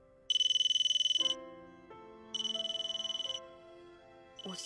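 A mobile phone ringtone plays in repeated bursts of bright, pulsing electronic tones, with a melodic ringtone tune beneath, loud and close, with no talking.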